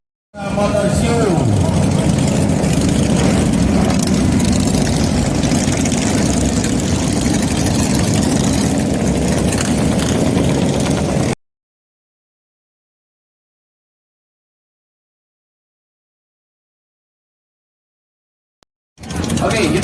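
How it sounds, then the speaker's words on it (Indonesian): A Volkswagen 2000 cc carbureted engine idles steadily and loudly at an international motor show, a continuous close drone that cuts off abruptly partway through and resumes briefly near the end. "Sudah mulai dihidupkan mesin-mesin"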